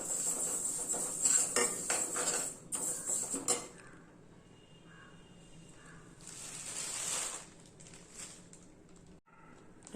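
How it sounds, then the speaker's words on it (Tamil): Sesame seeds roast in a pan while being stirred, giving off bursts of metallic scraping and rattling, then a softer crackle and hiss, faint and close. "எள்ளை நல்லா படப்படன்னு வர மாதிரி பொரிச்சு எடுத்துக்கலாம்."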